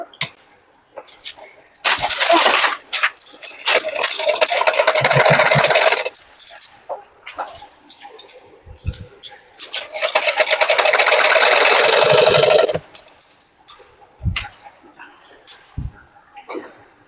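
A sewing machine stitches a blouse in long steady runs of rapid mechanical whirring, with pauses between bursts and brief clicks of handling; someone talks intermittently between the runs.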